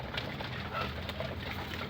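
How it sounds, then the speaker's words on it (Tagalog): Pigeons cooing outdoors in a backyard loft, low soft coos repeating steadily against a faint hiss of outdoor ambience, no talking. "meron pang nahihiwang ibon sa labas"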